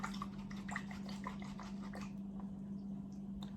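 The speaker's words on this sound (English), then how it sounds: "And I'm gonna rinse out that brush." Water sloshing and dripping as a paintbrush is swished and rinsed in a water container, soft and close, with a steady low hum underneath and a quieter trickle toward the end.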